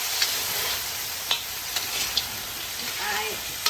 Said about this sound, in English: I'm turning the crab so you can get an even coating of the masala